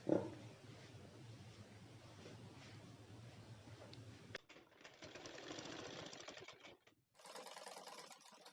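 A sewing machine stitches pleats on a cotton nighty in a rapid, steady whir. The motor cuts off partway through and restarts in short bursts.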